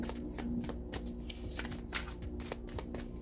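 Tarot cards shuffled by hand, a steady run of quick riffling snaps and soft slaps repeating close up throughout, with a faint low hum beneath and no talking.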